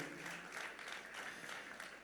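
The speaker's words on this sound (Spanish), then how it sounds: "Fuerte ese aplauso de alabanza al Señor" A church congregation claps in praise to the Lord during a sermon, a brief, faint wash of steady applause that sounds somewhat distant.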